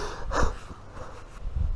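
Close, audible breaths from a person working under a car during an oil change, with snort-like inhales and exhales over low background rumble.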